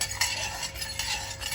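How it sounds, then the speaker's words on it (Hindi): A spoon stirs salt into water in a cooking pot, quick metallic scrapes and clinks against the pot's sides in a fast, uneven rhythm, close and fairly loud. "इसको मिक्स कर देंगे।"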